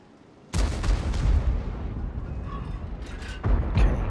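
A WZ-120 tank cannon fires in World of Tanks, a heavy booming blast that rumbles on for seconds as the shot bounces off armor, followed by a second loud thump near the end.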